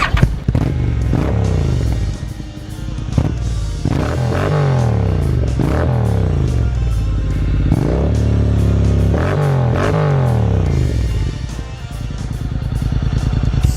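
A Honda NM4 Vultus 750cc V-twin motorcycle engine is blipped repeatedly at low RPM, each rev rising and falling in a throaty, close burble between steady idle.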